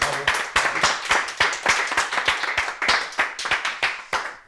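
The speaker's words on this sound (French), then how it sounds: "On vous applaudit, bravo à tous les deux." An audience applauds award winners at the Trophées Alsace Export 2020, a moderate crowd clapping close by in a steady run of sharp, distinct claps, with no voices over it.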